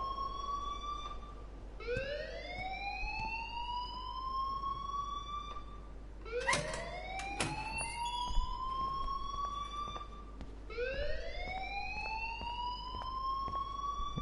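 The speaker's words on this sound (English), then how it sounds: "please turn off that alarm since that's your job" A school alarm in the Life is Strange video game wails in repeated rising siren sweeps, steady and moderately loud, cycling about every four seconds with no talk over it.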